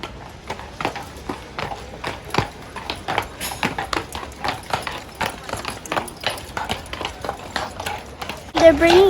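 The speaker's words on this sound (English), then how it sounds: "They're bringing out the horses for them to lead carriages." Horses being brought out to pull carriages at the Iowa State Fair clip-clop steadily on hard ground, a close, regular rhythm of hoofbeats with a brief louder rustle at the end.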